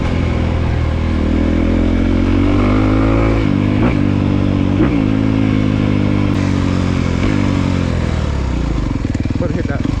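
Honda CRF250R 2023 dirt bike engine running loud and close throughout, revving with rising and falling pitch as the bike is ridden, with a couple of sharper bursts.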